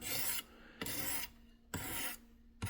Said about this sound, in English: running these stones over these blades is super easy